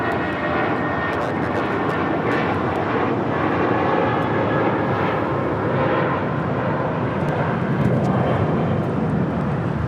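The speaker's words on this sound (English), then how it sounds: "1463 taking off to Los Cabos on an A320." A JetBlue Airbus A320 bound for Los Cabos takes off from runway 25 right at LAX, its engines giving a continuous, broad roar that stays loud and steady throughout, heard from a spotting position with no talk.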